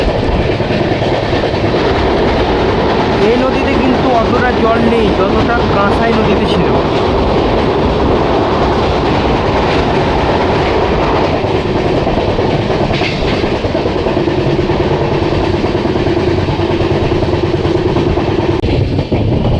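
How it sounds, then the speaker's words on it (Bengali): Passenger express train crossing the Dwarakeswar river bridge near Bankura, with a steady loud rumble and rhythmic clickety-clack of wheels on rails throughout, heard from inside the coach, while a person speaks over it. "বাঁকুড়া ঢোকার আগে ট্রেন দ্বারকেশ্বর নদী পার করছে।"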